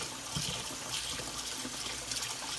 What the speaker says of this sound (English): Alright, so let's rinse. If your faucet water is filtered, that would be ideal.